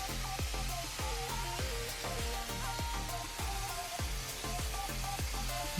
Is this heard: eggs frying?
yes